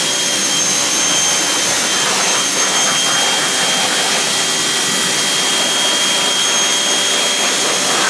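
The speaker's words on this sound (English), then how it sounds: "that wheel actually cleaned up pretty nice just with a nice pressure wash" A pressure washer blasts a dirty car wheel with a loud, unbroken hissing roar of high-pressure spray, heard close up and without any voices.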